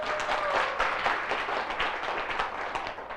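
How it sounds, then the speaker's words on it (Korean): A business presentation audience gives a hearty round of clapping, many hands at once in a dense, moderately loud burst that carries steadily throughout. "이분들 위해서 큰 박수!"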